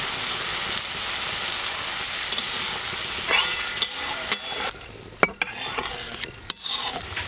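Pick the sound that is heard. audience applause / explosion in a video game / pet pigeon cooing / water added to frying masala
water added to frying masala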